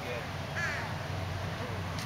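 A parrot in a park gives a short, harsh squawk early on, faint against steady background noise, with no talking during the call.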